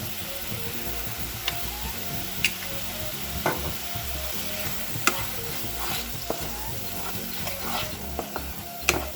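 Tulsi (holy basil) leaves fry and sizzle steadily in a pan while being stirred, a continuous close crackling hiss with occasional scrapes and clicks.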